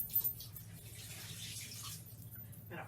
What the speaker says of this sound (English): we are going to take our EnviroCloth and wet it good. Some nice warm water.